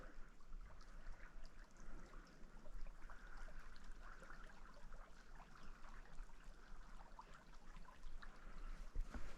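Rainwater running and trickling steadily in a stream during a walk in the rain, a faint continuous gurgling flow with a low rumble beneath and no voices.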